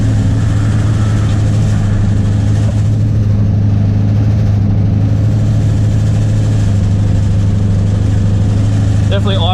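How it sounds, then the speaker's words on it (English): A Ford XF Falcon race car's engine idles too high at a racing revival event, a loud, constant, heavy drone close up that fills the entire stretch without letup. "Definitely idling too high."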